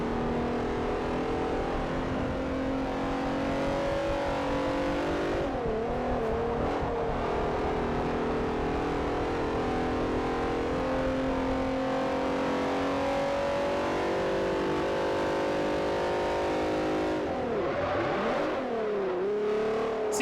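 A pack of race cars in Forza Motorsport 4 roars off the line at a multi-class race start, a loud, continuous engine drone from the D-Class car with pitch dips at gear changes and a clear rev swing near the end.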